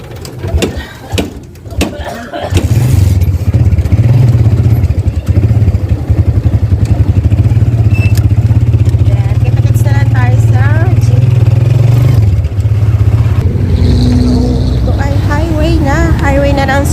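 A motorcycle tricycle on a highway: a loud, steady engine drone holds from about three seconds to the end, with road noise, faint birdlike chirps over it and a person talking.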